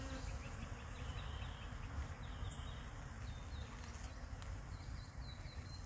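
Honey bees at an open, weakened hive make a dense, continuous buzzing hum. Individual bees drone past close by over the steady swarm noise.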